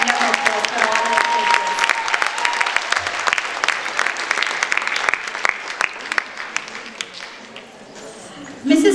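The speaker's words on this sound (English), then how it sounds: "Please give a big hand of applause for all our" Loud, sustained audience applause fills an awards ceremony hall in honour of the judges: dense, steady clapping with scattered sharper claps throughout, tapering slightly near the end before a final burst.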